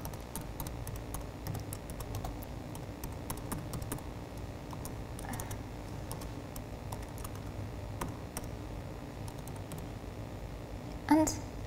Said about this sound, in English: I wish I could type faster.